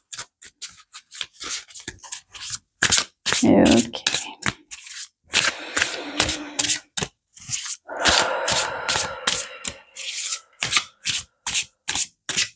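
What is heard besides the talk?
shuffling tarot cards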